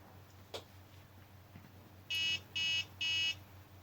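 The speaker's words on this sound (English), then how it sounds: "we start getting an alarm" A Flysky G7P transmitter's temperature sensor alarm gives three loud, even, high-pitched buzzing beeps in quick succession after a few faint handling clicks.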